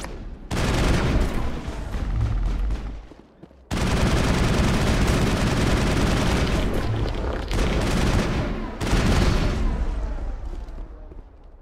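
Dense bursts of rapid gunfire and crossfire in the Mass Effect game on Virmire, several sustained volleys separated by brief lulls, loud and close with booming impacts mixed in.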